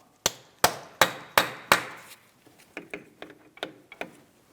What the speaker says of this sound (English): we're going to tap on this, breaking the axle free from the wheel bearing hub